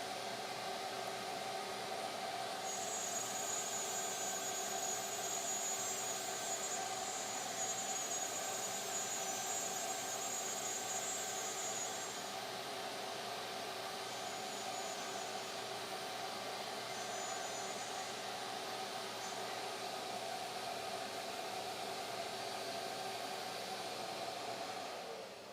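A Shaper Origin handheld CNC router cuts through material with a loud, steady whine and hiss, close and unbroken throughout.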